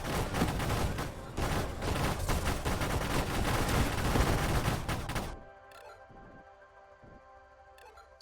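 Railgun fire in Siege Mode in the space shooter Nova Drift: a dense, loud barrage of rapid-fire blasts for about five seconds, then an abrupt drop to quieter electronic tones and sparse hits.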